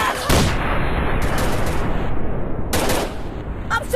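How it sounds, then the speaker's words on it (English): Rapid bursts of gunfire from the Android shooting game Commando Gun Strike, loud and continuous with dense overlapping shots and a heavier burst near the end. "I'm shooting these fools up!"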